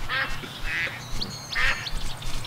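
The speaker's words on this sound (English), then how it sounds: "Oh, look, you called in the ducks." Several animated ducks in a Duck Dynasty video game quack in short bursts over a steady low rumble, with a few brief whistling tones in between.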